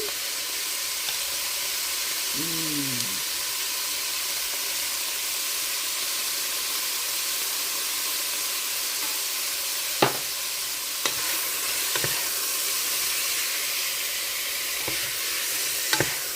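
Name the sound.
spices including cumin sizzling as they cook in a pan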